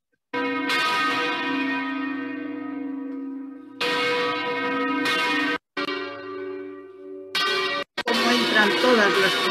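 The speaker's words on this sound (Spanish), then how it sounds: "Y ahora vamos a ver cómo entran las campanas grandes." Large church bells rung by hand swing and toll with heavy, resonant strokes, ringing in uneven bursts with brief gaps, their overtones hanging and echoing between peals.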